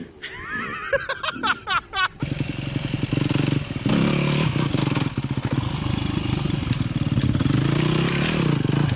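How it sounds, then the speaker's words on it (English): A freestyle motocross motorcycle in first gear runs with a loud, continuous engine drone and rapid rev pulses, close by. Brief voices and laughter come just before the engine takes over. "And then first gear freestyle motocross."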